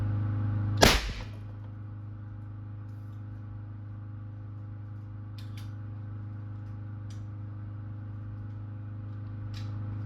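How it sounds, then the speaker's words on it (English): One loud, sharp shot from a long-barrel BW S45 rifle in 50 caliber nitro, fired into ballistic gelatin, rings out near the start, then a steady low hum fills the rest. "put 5 rounds in the ballistic gelatin"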